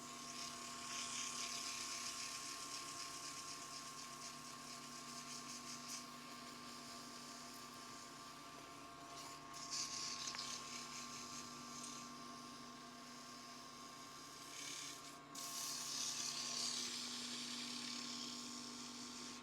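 A Fordite pen blank is sanded with a sanding block, giving a steady, close, high-pitched whirring grind that runs the whole time, with short bursts of louder friction near the middle and end and no talking.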